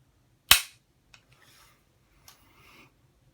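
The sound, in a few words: dry fire of a suppressed CZ455 rifle, no ammunition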